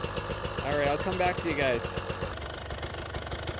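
A 2020 KTM 300 XC TPI two-stroke dirt bike idles nearby in cold weather, a steady low putter running throughout while someone talks over it for the first half.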